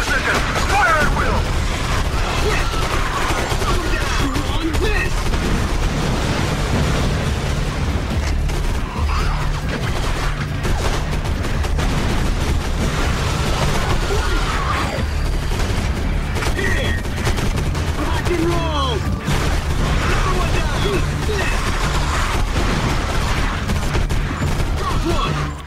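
Rapid, dense gunfire from an Area 51 video game battle pours out continuously for the whole stretch, with heavy bursts layered over a low rumble and voices talking throughout.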